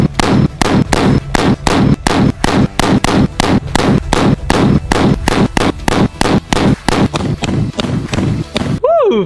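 Rapid, loud assault rifle fire at a French Navy shooting range, a long steady train of sharp close shots in quick succession, nearly continuous for about nine seconds before stopping.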